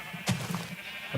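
Sheep in Minecraft, the video game, bleat in short quavering calls, one loud near bleat followed by softer repeats and a brief final call, with no talk.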